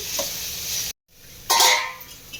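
Radish pieces frying in hot oil in a pan while being stirred for Telugu radish chutney: a bright, steady sizzling hiss, a brief silent break, then a louder burst of scraping stirring. No one talks.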